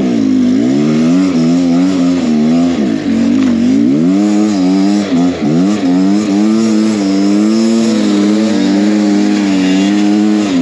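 A Beta X Trainer 300 two-stroke enduro motorcycle revs hard with a brand-new tire spinning in snow, its loud, close engine droning steadily and rising and falling in pitch as the throttle surges.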